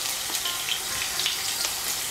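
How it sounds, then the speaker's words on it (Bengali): Potatoes with salt and turmeric frying in oil, a loud, dense and continuous crackling sizzle heard up close, steady throughout the short stretch with no talking. "দিয়ে আলুগুলোকেও আমি লাল করে ভেজে নেব"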